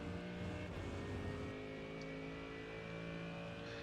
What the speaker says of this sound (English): And then we're going to accelerate out.